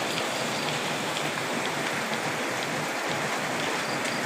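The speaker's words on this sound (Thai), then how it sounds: "บรรยากาศท้องทุ่งนาผม ฝนตกครับ" Steady, dense rain hissing down across open rice fields, a constant wash of noise with no voices and no breaks.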